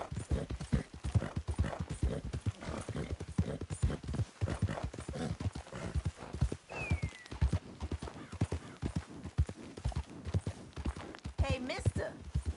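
Steady clip-clop of horse hooves in a video game, with an occasional whinny, close and continuous under a voice talking throughout.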